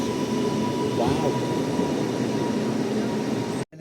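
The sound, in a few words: train arriving at station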